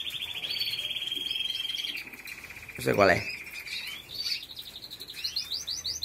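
Birds sing with bright repeated chirps and whistled phrases, one sweeping call dropping sharply in pitch, while someone says a few words in Spanish partway through.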